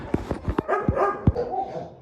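Several dogs bark and yip in quick, uneven bursts at an animal shelter in cold weather, close by, with whining and overlapping calls in between.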